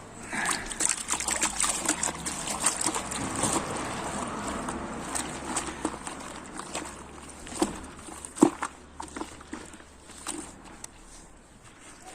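Car shampoo poured into a bucket of water for a car wash, a steady liquid trickle and splashing running throughout at close range, with occasional knocks and handling noises.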